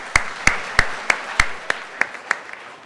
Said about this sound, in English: let's give them a hand of applause too as well